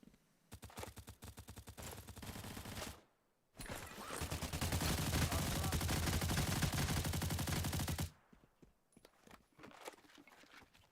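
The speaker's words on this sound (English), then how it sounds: "Please stop shooting me." Video game gunfire rattles in dense rapid bursts, with a short pause after the first stretch, a longer sustained volley, and then scattered quieter shots at the end.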